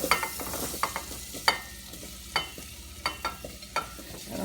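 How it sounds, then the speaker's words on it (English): Potatoes cooking in a pot for Hatteras-style clam chowder, a steady close sizzle with scattered scraping stirs and clinks of a utensil against the pot. "We're going to put the potatoes into here. I'm going to let them just kind of sit in here a few minutes."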